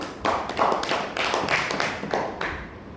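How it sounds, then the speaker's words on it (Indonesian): Scattered clapping from a classroom of students applauding a student group, a loose patter of hands at moderate distance that carries steadily before tapering off. "Bisa kita beri aplaus untuk Ulan dan kelompok 2 ya teman-teman"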